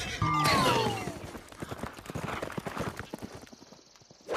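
Horse hooves clip-clop in a French cartoon adventure with D'Artagnan, a dense run of rhythmic hoofbeats following a brief loud whinny-like cry at the start, fairly close and steady before fading near the end.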